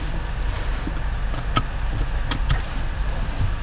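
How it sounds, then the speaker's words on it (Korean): Inside a used car at the start of a test drive, a steady low rumble of the engine and road fills the cabin, with a few brief clicks and knocks from the interior; no talking. "여기에서 그냥 제 방식대로 간단하게 한번 시운전 한번 해보도록 하겠습니다"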